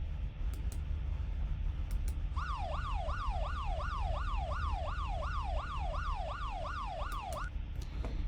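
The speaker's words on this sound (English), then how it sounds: "Most people would consider a police siren as noise and not music." A police siren wails in a rapid, regular up-and-down sweep for about five seconds over steady traffic rumble, starting and stopping abruptly.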